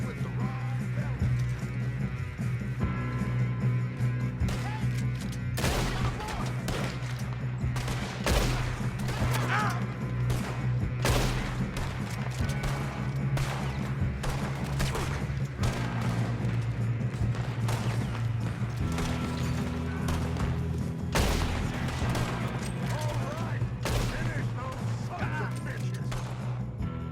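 Gunfire in a Red Dead Redemption 2 shootout, repeated sharp shots and cracks over a dense, loud game mix with horse hooves and voices talking throughout.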